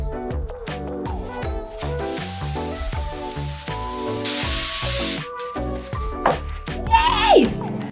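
A spray can hisses in repeated bursts as paint goes onto a wooden music podium during a furniture flip, the steady loud spray set against background music.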